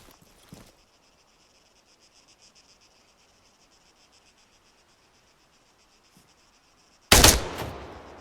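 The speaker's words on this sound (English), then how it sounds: "When you're ready, put some rounds down range." Gunfire from a sergeant shooting down range in Arma 3: one sudden loud burst near the end that rings out, after a long stretch of steady insect chirping and only a faint tap earlier.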